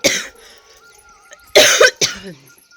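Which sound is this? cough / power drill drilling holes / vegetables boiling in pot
cough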